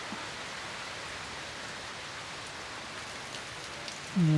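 Heavy rain drums steadily on a newly roofed kitchen, a dense, even hiss of drops hitting the roof throughout, with a brief tonal noise rising at the very end.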